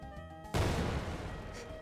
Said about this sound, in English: I forgot about the explosion sound effect.